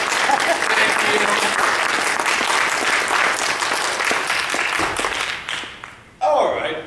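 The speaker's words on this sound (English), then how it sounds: "Let's have some applause." At a high school spring play, an audience gives loud sustained applause that fades briefly near the end before surging back; a voice speaks over the clapping.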